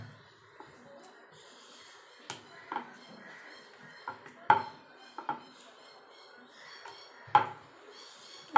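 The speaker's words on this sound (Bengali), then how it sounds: "আলগা হাতে বেলতে হবে যাতে ভিতর থেকে পুরটা বেরিয়ে না আসে।" Hing kachori dough being rolled out with oil on a board: soft, faint rubbing with a few light wooden knocks and clacks as the rolling pin moves, quiet and close in a home kitchen.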